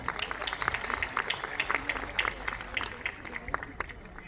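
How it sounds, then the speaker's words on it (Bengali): Audience clapping at the Tele Cine awards 2026 live show, fairly sparse, uneven hand claps from a modest crowd, moderately close, with talking running through. "একটু জোরে হাততালি হোক"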